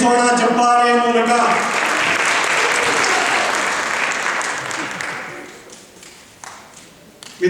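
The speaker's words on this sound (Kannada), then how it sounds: "ನಮ್ಮ ಮೆಚ್ಚುಗೆಯನ್ನು, ಅಭಿನಂದನೆಗಳನ್ನು ಸಲ್ಲಿಸೋಣ ಚಪ್ಪಾಳೆಯ ಮೂಲಕ" An audience at a Kannada association silver jubilee function breaks into loud applause that swells, then thins and fades to scattered claps, with a speaking voice heard at the start over music-like tones.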